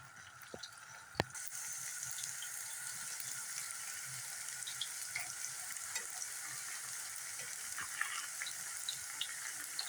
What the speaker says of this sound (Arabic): ودلوقتي بعد ما الزيت سخن هنزل كده بالكفتة